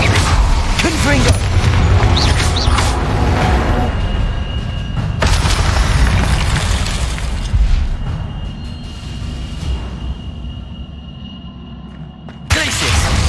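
Confringo fire blast spells in Hogwarts Legacy: loud, dense booming explosions and crackling bursts rolling over one another, with a sharp fresh blast near the end; battle voices mixed in.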